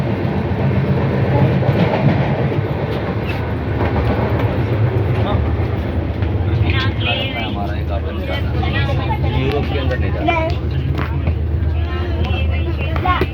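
Steady rumble and rattle of a fast-moving train carriage, continuous throughout, with people talking nearby over the noise.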